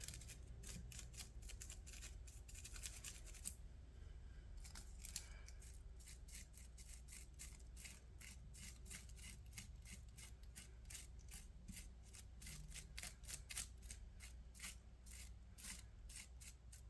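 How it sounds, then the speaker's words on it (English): Scissors snip rapidly and repeatedly through an onion, a steady run of crisp close-up cuts with faint rustling between them and no talking. "we'll have to probably go with the scissors on this one"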